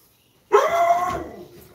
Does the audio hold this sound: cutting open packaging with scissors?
no